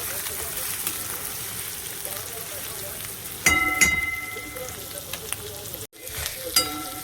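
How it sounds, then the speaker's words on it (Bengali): Spice paste for a yogurt fish curry sizzles and fries steadily in a pan, with a sharp burst of louder spitting and stirring midway before settling again. "মশলাটা ভালো করে ভাজা হয়ে গেছে দই মাছের"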